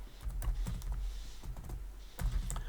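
Computer keyboard keys tapped in short irregular bursts while a command is typed, several quick clicks clustered together with brief pauses between them, close and fairly quiet.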